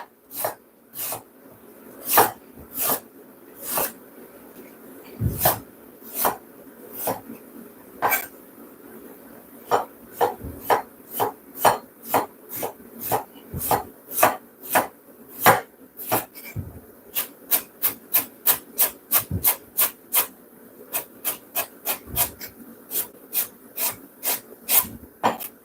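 A knife slices ingredients thinly on a board for a stovetop flatbread, giving a long run of crisp, close cuts that start spaced out and then quicken into a fast, steady rhythm, with no talking.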